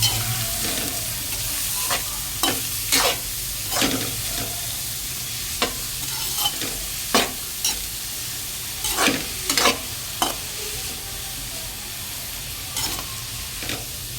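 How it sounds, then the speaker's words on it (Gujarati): Onions and cabbage fry in a pan for street-style Hakka noodles, a steady low sizzle broken by repeated sharp scraping clacks of a spatula stirring, near and irregular in rhythm. "હવે આપણે બરોબર હલાવવાનું રહેશે."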